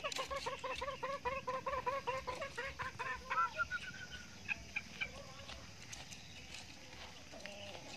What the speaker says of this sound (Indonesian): Ini asli sekotong, ayam sekotong.